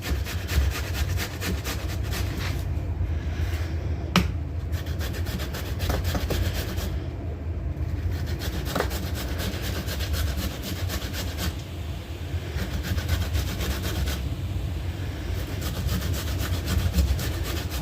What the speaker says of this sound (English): A really sharp grater would greatly ease the process.